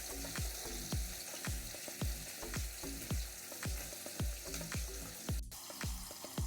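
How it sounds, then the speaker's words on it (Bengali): Fish frying in hot oil four pieces at a time for a Bengali village kochur loti dish, a continuous sizzle broken by regular stirring scrapes about every half second, close and fairly quiet. "এই চারটে করেই ভেজে নেব"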